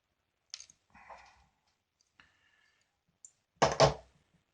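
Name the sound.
cutting off a part of a model locomotive bogie tower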